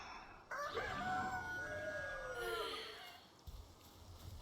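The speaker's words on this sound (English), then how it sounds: "They wake you up with that rooster call." A rooster in the video game Palworld gives one loud, drawn-out cock-a-doodle-doo close by. The crow rises and then trails off, and faint background noise remains after it.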